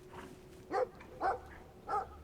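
A dog in the video game Brothers: A Tale of Two Sons barks three times at even intervals, short sharp woofs over a quiet game background.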